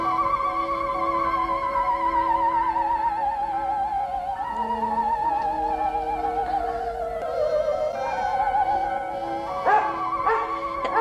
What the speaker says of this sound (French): Allons, mon chien, qu'est-ce qu'il y a?